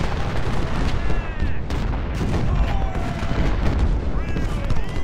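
Cannon artillery fire in the Civil War battle game Ultimate General: Civil War, a rolling barrage of booms and crackling volleys layered over dense battle noise, with someone talking over the din.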